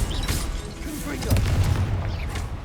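A Confringo blasting spell bursts in the Hogwarts Legacy video game, a deep booming explosion with rumbling low-end impacts amid steady combat noise.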